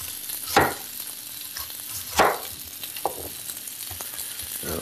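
Onion strips fry and brown in a pan, a soft steady sizzle punctuated by a few louder scraping stirs, close by and with no talking.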